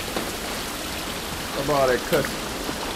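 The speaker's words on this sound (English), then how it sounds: "This rain ain't gonna do us any good." Rain falls in the video game The Last of Us Part 1, a steady soft hiss running beneath a voice.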